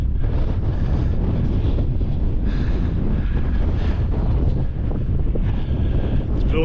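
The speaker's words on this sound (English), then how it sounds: "Not too sure if you hear me with the wind or not." Strong wind buffets the microphone near the summit of Slieve Donard in the Mourne Mountains, a loud continuous roar and rumble with gusty swells and no pauses, drowning out everything else.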